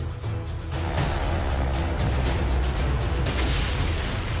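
An Atlas ballistic missile launches, carrying a dummy warhead, with a loud, continuous, rumbling roar that swells and stays heavy throughout.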